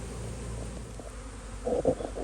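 A honey bee swarm buzzes near a trap, a steady low hum with a louder burst of nearby wingbeats toward the end, no voices.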